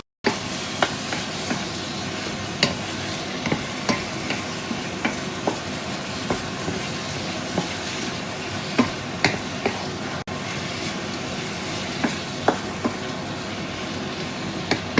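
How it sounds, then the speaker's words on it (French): A steady bubbling sizzle from a saucepan of chicken pastilla sauce simmering on the stove, with scattered soft pops and occasional light clinks, continuous and close. "je vais ajouter un peu d'eau dans ma casserole et je vais laisser bien mijoter"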